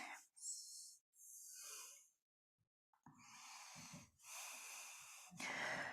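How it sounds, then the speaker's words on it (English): A deep breath drawn in during a Pilates class stretch from child's pose, heard as close, airy inhales and exhales with brief gaps, fairly soft and with no talking over it. "Breathe in."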